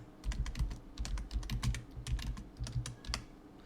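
Quick, uneven keystrokes clatter on a computer keyboard while text is being edited, a close burst of many crisp clicks with short pauses between words.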